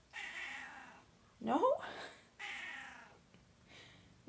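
A cat meows loudly in a drawn-out, wavering call midway through, with a person talking softly before and after it indoors.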